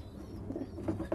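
A pigeon coos softly over its squabs in a nest, a few low, murmuring coos rising toward the end, close and fairly quiet.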